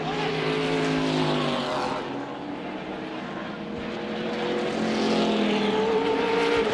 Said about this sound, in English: More cars spinning, and they're still crashing.